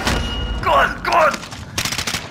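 Gunfire in Call of Duty: Modern Warfare: a few sharp shots and a quick rattling burst of rapid fire, close and punchy, over a brief stretch of noisy game action.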